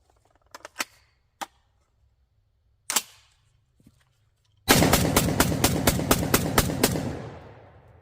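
A JTS M12AR AR-style 12 gauge shotgun fires 3-inch hunting loads in a fast string of about ten loud, sharp blasts. A few scattered cracks and clicks come before it.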